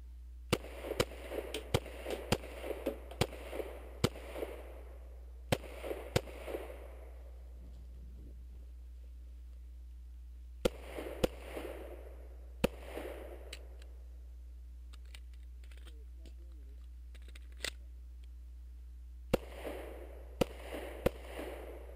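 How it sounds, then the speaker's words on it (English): Pistol shots crack at an IDPA shooting match, sharp and loud in quick strings of several rounds separated by quiet pauses, over a low steady hum. "We're about to start shooting."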